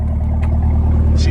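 Idling 2021 Chevy Camaro ZL1 with quad-tip exhaust, a steady loud low engine rumble close by, running continuously under a voice.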